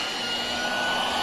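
A vintage Eureka Junior lightweight hand vacuum runs with a steady, close, loud whine and airy hiss, holding constant throughout with no talking.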